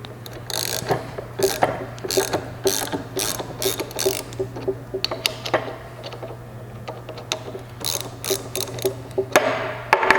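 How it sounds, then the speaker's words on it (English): A ratchet with a 17 mm socket loosens the blade bolts on an MHS 850 meat dicer, making loud, close, rapid clicking bursts in repeated back-and-forth strokes with brief pauses, alone without speech. "So it's a 17 millimeter wrench that you would use, and then a 17 millimeter socket."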